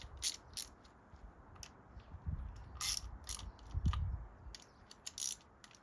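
Ratcheting socket wrench tightening nuts by hand on a crashed BMW S1000RR motorcycle during a parts swap, giving several short bursts of clicking close by with metallic knocks, and no talk.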